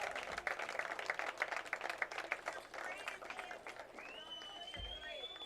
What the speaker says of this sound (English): Round of applause to Cheyenne, guys.